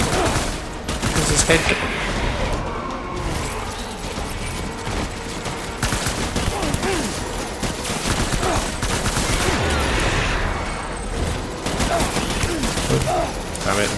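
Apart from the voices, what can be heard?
gunfire in the video game Death Stranding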